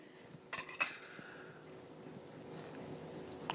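A few clinks of a utensil against a bowl while garlic powder, salt and black pepper seasoning are mixed. The clinks come close together, then fade into quiet background.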